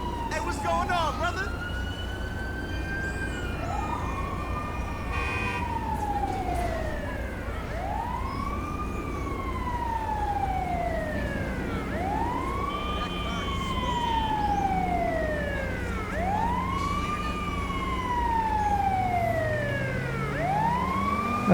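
An ambulance siren in GTA V with the LSPDFR police mod wails in repeated rising-and-falling sweeps, growing steadily louder as it arrives, over a low engine rumble with occasional in-game voices.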